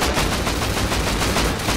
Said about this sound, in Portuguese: Acertei um monte de tiro neles.